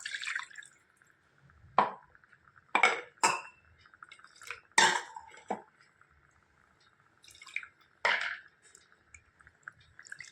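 Water splashes into a pot of pepper chicken in a few separate, sharp bursts with quiet dripping between them, heard close up over a steady background tone.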